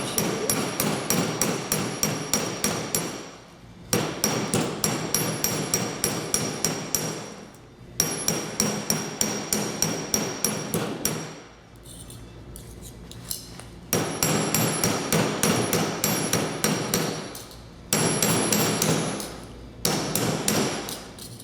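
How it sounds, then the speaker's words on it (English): Rapid, steady hammer blows on metal, ringing and sharp, come in long bursts separated by short pauses. "Hold it at the very edge and let the weight of the hammer do some of the work."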